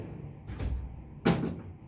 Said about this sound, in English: You can actually slide the shutter just like the door does.